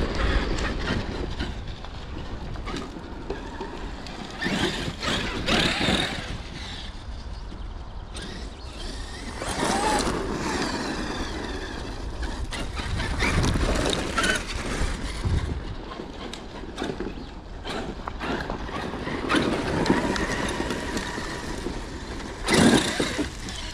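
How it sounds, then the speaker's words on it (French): A Traxxas X-Maxx 8S RC car driving outdoors, a whining electric motor rising and falling in bursts with rumbling tire and chassis noise, near then farther away. "c'est vraiment une super machine le X-Max quand même"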